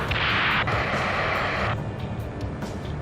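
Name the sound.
rocket explosion in the video game Ace Combat 7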